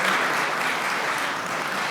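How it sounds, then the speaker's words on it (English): An audience at a Korean American Day celebration claps warmly for Vietnam War veterans, a steady burst of many hands, close and full throughout. "Let's give them a round of applause."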